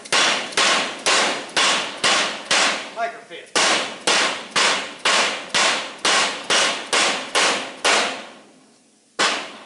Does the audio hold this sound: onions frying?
no